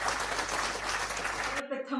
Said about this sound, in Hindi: आप जोरदार तालियों से स्वागत एवं अभिनंदन करें ध्रुविका व्यास वमासा